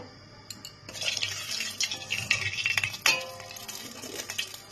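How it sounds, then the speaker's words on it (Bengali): Cumin seeds and bay leaves tempering in hot oil in a wok, heard as a soft low sizzle under close metallic scraping and clinks of a spoon being stirred. "কড়াইতে তেল দিয়ে এর মধ্যে জিরে তেজপাতা আমি ফোড়ন দিয়ে দিয়েছি"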